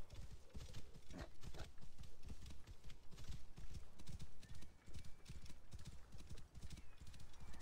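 Horse galloping in Assassin's Creed Origins, a steady rapid clip-clop of hooves running throughout with a brief whinny near the start, loud and continuous over ambient game sound.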